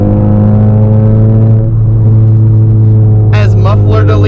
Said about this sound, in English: As muffler deletes are concerned, it sounds great.